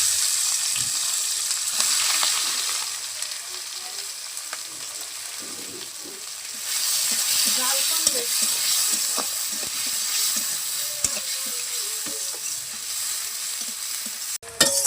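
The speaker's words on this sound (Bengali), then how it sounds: "পেঁয়াজগুলো লাল করে ভেজে নিচ্ছি" Chopped onion frying in hot oil left from frying fish, cooked on a clay stove, a loud close hiss and sizzle throughout with scattered stirring scrapes and a clack at the very end.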